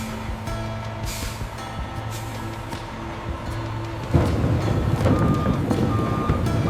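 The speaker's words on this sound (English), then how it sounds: "The trucks arrive at the factory receiving bay in a constant procession, 24 hours a day during the peak season." Trucks pull into a factory receiving bay at a pumpkin processing plant. Repeated reversing beeps sound over idling diesel engines, and a louder rush of engine noise or an air release follows partway through.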